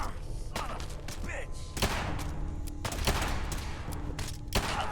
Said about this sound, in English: They threw like 3 fucking grenades at the same time and just blew us up.